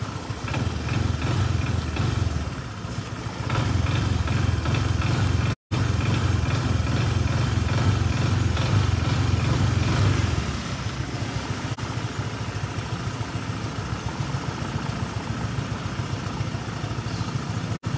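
A freshly tuned scooter engine idling loudly and close, with a steady throbbing rumble and a few throttle blips rising and falling before settling back to a smoother idle, with no talk.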